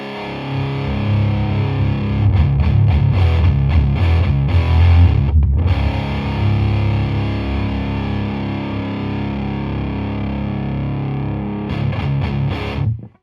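Electric guitar through a Boss HM-2 Heavy Metal pedal, all knobs at noon, chugs and rings out in dense, saturated chords, loud and continuous, with a brief choke midway and no talking.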